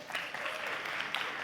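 Applause from a launch-event audience celebrating a Red Dot Award win, a steady wash of clapping running the whole moment at moderate level, with a couple of louder swells.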